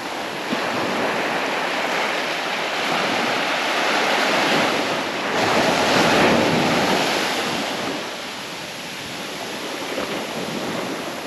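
Sea waves wash onto a beach at Southbourne, Dorset, as the tide runs, a steady, loud surf roar with swelling breakers and wind buffeting the microphone, no voices.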